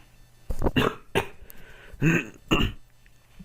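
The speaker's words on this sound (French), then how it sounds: "Excusez-moi si je tousse." A few harsh, raspy coughs in separate bursts, close and fairly loud, with short quiet gaps between them.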